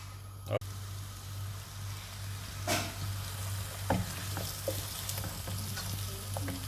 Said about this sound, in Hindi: प्याज और आलू पॉट में डाल के और इसके अंदर हम आधा कप जो है वो ऑयल डाल रहे हैं